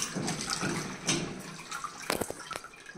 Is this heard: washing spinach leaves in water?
yes